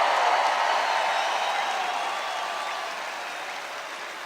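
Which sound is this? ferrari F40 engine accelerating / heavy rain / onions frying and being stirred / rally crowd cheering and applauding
rally crowd cheering and applauding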